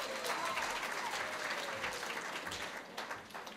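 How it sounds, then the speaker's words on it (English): Attendees at an Equity Group Foundation gathering applaud themselves, a steady, fairly distant crowd clapping that fills the whole short stretch at a modest level. "Can you clap for yourselves again?"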